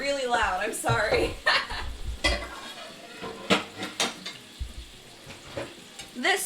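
Metal cooking pans are shuffled and moved in a kitchen, with clanks and scrapes over a sizzling frying background, and a person talks and chuckles throughout.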